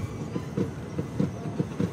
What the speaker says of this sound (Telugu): ఈ మటల్కుంట దగ్గర నుంచి కూడా మన ట్రైన్ అయితే స్టార్ట్ అయిపోయింది